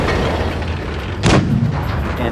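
A tank gun fires once in the World of Tanks Blitz video game, a sharp booming blast midway that rings out over a constant rumble of engine and battle noise.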